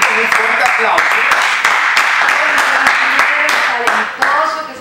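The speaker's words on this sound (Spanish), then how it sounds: "Tenemos aquí con nosotros a Celso King, a quien vamos a recibir con un fuerte aplauso." Dense, sustained applause from a live TV studio audience with sharp claps throughout, loud and continuous, tapering slightly near the end.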